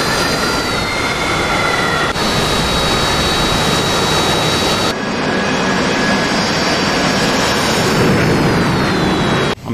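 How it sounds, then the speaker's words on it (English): A jet roars down the runway on full afterburner in the DCS flight simulator, a loud, steady, broadband thunder with whining turbine tones, continuous and unbroken throughout with no talk. "Simba, when you take off, go full stage 3 burner."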